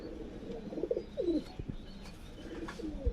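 Several pigeons of a Pakistani high flyer breed coo in soft, rolling bursts close by, with brief wing flutters and light rustling between calls.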